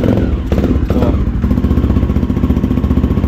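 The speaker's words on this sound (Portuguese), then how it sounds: "Vamos ligar a moto aqui pra ver?" A 2008 Honda Twister motorcycle engine idles close by with a steady, pulsing single-cylinder thump and some mechanical clatter; a brief voice sounds near the start.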